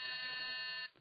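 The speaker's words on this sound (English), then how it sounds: "That was again the door buzzer." On an old-time radio comedy, a door buzzer sounds as one steady, harsh electric tone lasting about a second and then cuts off abruptly, clear with no one talking over it.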